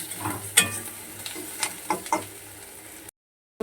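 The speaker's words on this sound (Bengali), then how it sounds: "রসুনগুলোকে আমি পেঁয়াজের সঙ্গে ভালো করে ভেজে দিচ্ছি" Garlic cooking with onions in a pan gives a steady sizzle, broken by a few sharp stirring scrapes and clicks, close by with no voices.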